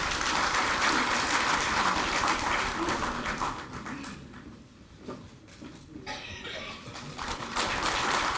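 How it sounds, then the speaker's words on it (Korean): Indoor applause greets a party presidential primary candidate at a Korean political event, a dense patter of clapping that thins into scattered claps midway before swelling again. "큰 박수로 모시겠습니다"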